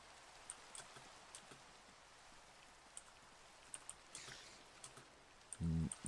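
Rain falls in the Minecraft video game, a faint steady patter with scattered light drops and a few soft clip-clop-like taps, then a short low thump near the end.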